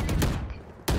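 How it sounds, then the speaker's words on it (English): Video game gunfire cracks out in short bursts, with a couple of sharp broadband shots and a brief lull between them. "You can shoot a gun."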